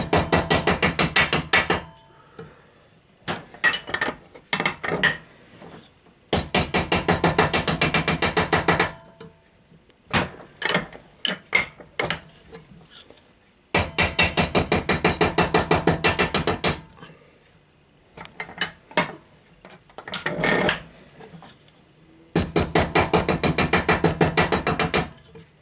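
Boiler plate metal being hammered down onto a former, loud rapid ringing blows in bursts of several seconds separated by short pauses and a few isolated strikes, close and with no talk.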